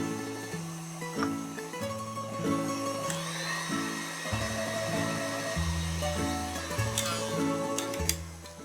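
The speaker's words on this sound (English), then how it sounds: "we're gonna whisk these up until the butter is nice and fluffy" Electric mixer whisking butter with vanilla for a Greek-style coconut cake batter, a steady motor whir with shifting pitch steps running continuously and close throughout, no talk.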